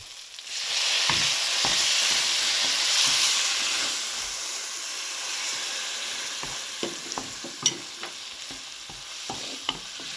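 Jackfruit curry spices frying in a pan, a loud steady hiss and sizzle as water goes in, easing into a softer simmer with scattered clinks and scrapes of stirring.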